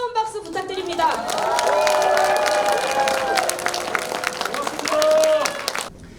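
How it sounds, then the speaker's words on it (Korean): Crowd applause and cheering at a political rally in Gangwon, Korea, a dense sustained wash of clapping and voices building over about five seconds, swelling near the end before cutting off abruptly. "다시 한번 뜨거운 박수 부탁드립니다."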